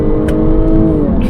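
A loud, deep 2021 Jaguar F-Type sports car engine rumbles and revs steadily up close, a throaty roar with faint higher hiss on top.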